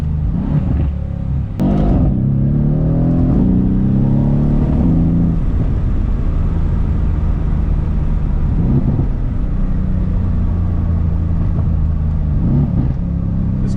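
A 2018 Mercedes-AMG C63s with a performance exhaust revs loudly and repeatedly, its engine note rising and falling in sharp bursts with no talking over it.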